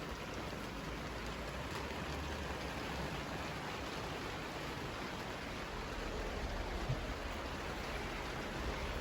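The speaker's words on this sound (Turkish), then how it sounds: "böyle yağmur bayağı yağıyor" Rain falls heavily outside a relative's home, a steady soft hiss without pauses, fairly quiet and constant, with no one talking.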